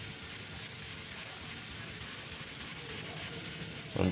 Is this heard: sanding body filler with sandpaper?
yes